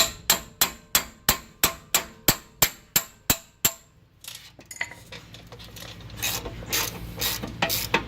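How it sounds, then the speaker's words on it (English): About a dozen sharp metallic hammer blows strike a 19 mm wrench on a brake bolt of an Infiniti JX35/QX60 in a steady, evenly spaced series, then give way to scraping and clattering metal sounds. "I'm just going to put the 19 mil here, line that up, take the hammer"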